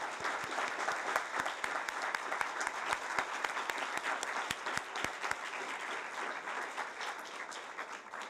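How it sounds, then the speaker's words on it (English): A board of education candidates forum audience breaks into sustained applause, dense steady clapping from many hands filling the room for the whole stretch with no voices over it. "If we can give them a round of applause."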